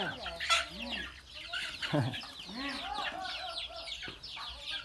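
A flock of nearly a hundred chickens, hens and roosters, clucking and calling repeatedly at close range, some crowing-like calls mixed in, with faint voices underneath.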